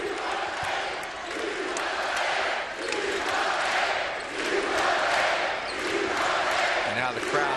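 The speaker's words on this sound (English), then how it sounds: "And now the crowd very much back into it." A large basketball arena crowd during an Oakland vs Arizona game roars in swelling waves of cheering, loud and sustained, while a commentator talks over it.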